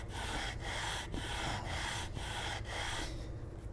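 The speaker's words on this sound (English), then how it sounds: "Take two hands and press firmly as you rub the stone on the stone fixer up and down." A sharpening stone pressed firmly and rubbed up and down across a stone fixer, giving a steady gritty scraping in even strokes about every half second, loud and close, with no talking.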